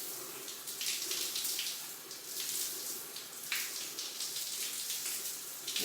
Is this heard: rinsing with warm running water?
yes